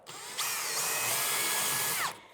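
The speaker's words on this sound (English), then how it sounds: "you can just take the drill bit, just kind of lightly move it around like that" A power drill whines up loudly and runs steadily for nearly two seconds as the bit is worked around to widen a hole in a wall while mounting a skateboard rack, then spins down abruptly.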